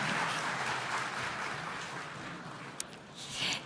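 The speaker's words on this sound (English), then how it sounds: "Round of applause for our wonderful panel here." Steady applause from a crowd after a panel discussion fills the space, a broad continuous clatter of clapping that tapers slightly before a brief swell at the end.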